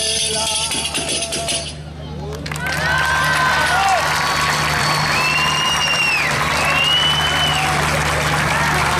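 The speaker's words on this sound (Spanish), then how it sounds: "Aplauso de despedida" Sustained applause and cheering from an audience bidding farewell to Baiona's Vila de Baiona dance school performers, a dense steady wash of clapping with scattered shouts and whistles, following a brief stretch of music.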